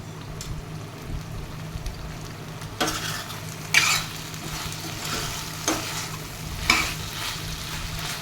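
Drumstick (moringa) pieces frying in a pan with steady sizzling, and a few soft scraping strokes stand out as a utensil slowly turns them, close and alone.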